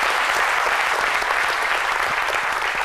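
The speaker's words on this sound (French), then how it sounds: "que je vous demande d'applaudir encore une fois" A studio audience on a midday French TV show gives guests a round of applause, dense and continuous clapping at steady loudness throughout, with no voices over it.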